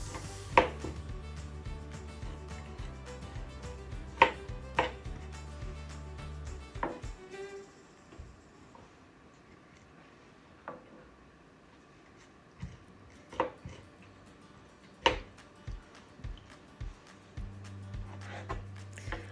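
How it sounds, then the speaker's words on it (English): Citrus fruit peels, with the pith scraped away, are sliced thinly with a knife for homemade marmalade, giving sharp, scattered knife taps on a cutting board amid faint kitchen clatter, with no voices. "And now I'm just taking the fruit peels that I have removed all the pith I possibly could and just slicing it very thinly."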